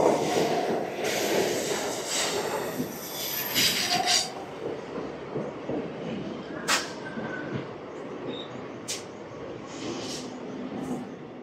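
The Palnadu SF Express (12747) at Begumpet railway station, heard from on board: a steady rolling rumble, bright wheel squeals and a few sharp clanks, with faint voices in the background.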